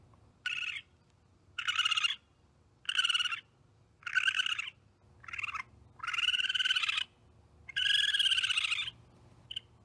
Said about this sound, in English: it's actually a creature that you would find digging around in your trash cans. It's a raccoon